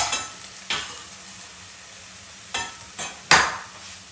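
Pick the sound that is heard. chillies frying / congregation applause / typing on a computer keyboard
chillies frying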